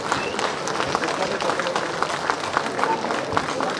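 An audience applauds at an Indira Gandhi Jayanti event honouring her, with dense, continuous clapping from many hands at fairly close range, with faint voices mixed in.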